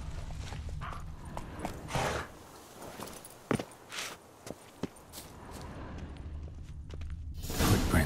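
A horse ridden at speed in The Witcher 3 game, with quick hoof clip-clops and a few sharp thuds over a steady outdoor rushing bed, fairly close and without talk.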